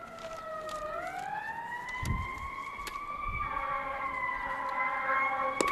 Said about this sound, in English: Sounds like the fire engines, not the police.